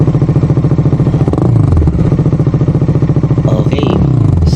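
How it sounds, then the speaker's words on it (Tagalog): A motorcycle fitted with an Orion ARA aftermarket muffler idles loud and close with a pulsing exhaust note, then blips its throttle in short revs. "Okay, sound check muna tayo mga kauri. Testingin natin yung mga available na muffler."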